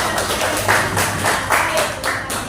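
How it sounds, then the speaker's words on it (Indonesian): A group applauds for a presenting team in a classroom, several pairs of hands clapping in irregular bursts of rapid, fairly close claps over a short stretch. "Beri aplaus dulu buat kelompok 3."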